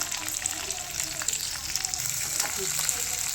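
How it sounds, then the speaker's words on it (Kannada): Green chillies, cinnamon, cloves, cardamom and pepper frying in oil in a pan for brinjal masala, a steady close sizzle with small pops and stirring scrapes, as a person talks over it. "ಇದನ್ನು ಚೆನ್ನಾಗಿ ಹುರ್ಕೊಳ್ಬೇಕು ಹಸಿ ವಾಸನೆ ಹೋಗೋವರೆಗೂ"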